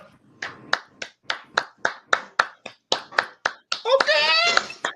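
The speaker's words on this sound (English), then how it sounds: "That's what I'm clapping." Steady run of single hand claps, close and crisp, about three per second for four seconds, followed by a brief burst of voiced sound at the end.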